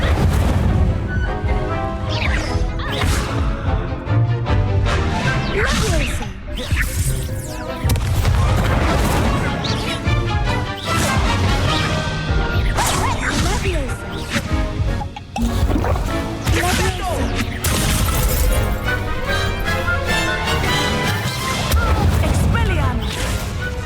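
Fire spells blast repeatedly in a Hogwarts Legacy dueling fight, loud booms and crashes layered with dense game music and effects throughout, with character voices speaking over the action.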